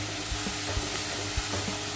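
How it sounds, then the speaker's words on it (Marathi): Masala frying in a pan over a gas flame turned low, ahead of a vam fish curry: a steady, fairly quiet sizzle with a few soft stirring scrapes and low gas hiss underneath, no voices. "एक मोठ्या गॅसमध्ये मी हा मसाला 5 मिनटं चांगला भाजून देते"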